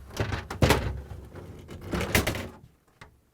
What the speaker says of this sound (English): Now we're going to pull out the pantry drawer.